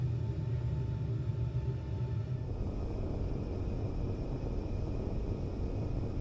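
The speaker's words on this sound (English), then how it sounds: "That looks like a pirate drone." A pirate drone flies in a sci-fi video game, heard as a steady, loud mechanical rumble with a constant hum that drops slightly in tone partway through and carries on without talk.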